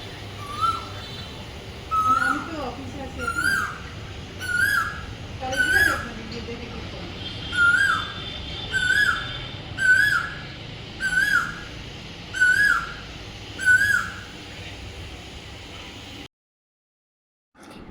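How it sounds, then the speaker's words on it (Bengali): An Asian koel in a back garden repeats its rising two-note whistled call about a dozen times in a steady rhythm, clear and fairly near, with faint background hum and a little distant noise. "এখানে একটা কোকিল খুব ডাকে"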